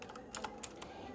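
Quick bursts of keystrokes on a computer keyboard while entering web design code, several close, crisp clicks in a short, uneven run with no voices.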